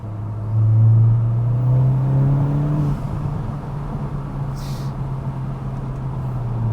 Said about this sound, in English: when you get this thing wound up and you get this thing warmed up, you really start hearing the pops and stuff in sport mode